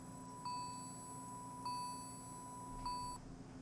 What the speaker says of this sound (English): this phone has some kind of a notification when the battery is low